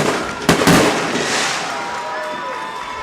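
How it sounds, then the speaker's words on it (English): Fireworks going off at a high school football game after a touchdown, with a sharp burst and crackling booms over a noisy stadium crowd, then a fading rumble. "There's the fireworks."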